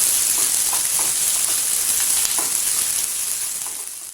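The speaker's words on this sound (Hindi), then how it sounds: "प्याज को भूनने देंगे थोड़ा" Onions sizzle and fry steadily in a hot pan for a green bean sabji, a dense continuous hiss with faint stirring scrapes, loud and close, tapering slightly toward the end.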